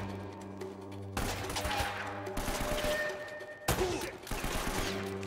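Bursts of gunfire from the video game Uncharted: Drake's Fortune, several loud volleys of shots in separate clusters over a low game background, with no talking.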